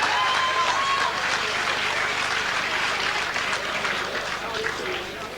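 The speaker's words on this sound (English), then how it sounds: "How about a big round of applause to the machine, Phil Chapman." Crowd at a combat sports event breaking into applause and cheering for a fighter, a dense wash of clapping that slowly fades, with a voice talking over it.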